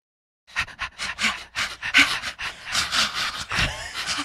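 Human voices imitating a dog panting, rapid rhythmic breathy huffs repeating in quick bursts, close and fairly loud, with several people joining in.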